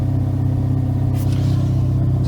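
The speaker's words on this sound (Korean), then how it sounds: "문을 닫아도 그래도 상당히 배기음 소리가 일반 차들하고 비교해 봤을 때는 꽤 크다라는 게 느껴지죠" Hyundai Veloster N idling shortly after a cold start, a loud, deep, steady exhaust burble with a fine pulsing rhythm, heard close up and alone.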